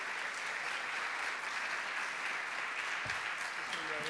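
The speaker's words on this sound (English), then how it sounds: "Would you please give a warm round of applause for Shane Claiborne." Warm audience applause at a university chapel service welcoming the guest speaker, a steady dense clapping wash held through the whole stretch at moderate level, with a faint voice surfacing near the end.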